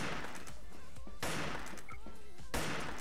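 Two M500 shotgun blasts in the shooter game Wolfteam, sharp, loud, close reports spaced more than a second apart, with game noise in between.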